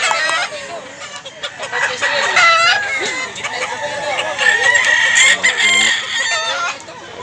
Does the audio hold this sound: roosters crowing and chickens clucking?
yes